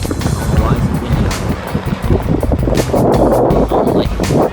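Gusty wind buffets the microphone outdoors at Union Station on a cold day, a loud, broadband rumble that swells and surges steadily, with scattered speech from people nearby.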